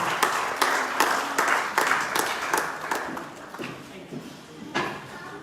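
Audience at a COVID warrior award ceremony clapping in a run of sharp, evenly spaced claps that thin out toward the end, with a voice speaking over them.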